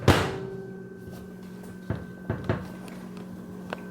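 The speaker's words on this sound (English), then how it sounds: "Or the door closing." A van door shuts with a firm thud near the start, then several smaller knocks and bumps follow in a quiet interior with a steady low hum, and no one speaks.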